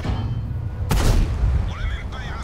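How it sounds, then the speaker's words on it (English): A tank gun fires once in a video game, a sudden sharp bang with a short booming tail, rising over low engine rumble and followed by brief whistling tones. "I take one more shot, it's not too bad."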